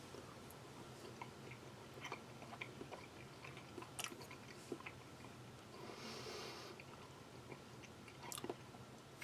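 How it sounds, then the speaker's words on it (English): A hard-boiled egg from a Chinese naval ration breakfast is bitten and chewed, soft wet munching with small crunchy clicks and occasional sniffs, close and quiet. "I think I need to break a piece of that off and have a little taste there."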